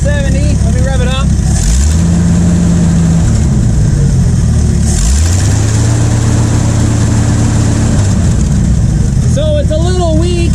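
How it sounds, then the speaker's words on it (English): A Ford F350 truck engine idles and is revved twice, each time climbing sharply, holding a steady high drone for a second or more, then dropping back to a loud rumbling idle, with a voice heard briefly at the start and end. "Let me rev it up."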